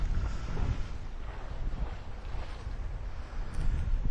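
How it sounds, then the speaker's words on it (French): Wind rises around a sailboat out on the water, a rough, gusty rumble buffeting the microphone with low churning noise that swells and eases, strengthening slightly toward the end; no one speaks. "Ah, le vent monte."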